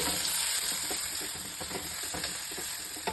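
Onions frying in hot oil until golden brown for cashew chicken, a steady dense sizzle with faint spoon scrapes, close and continuous with no talking.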